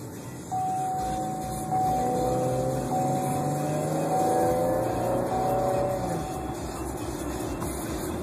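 A 2011 Chevy Camaro with an automatic transmission drives along, its engine droning steadily close by, with rising harmonic tones as it pulls through the gears for several seconds.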